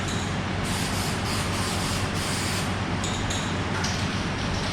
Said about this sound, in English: so I'm just going to blow a coat of paint on.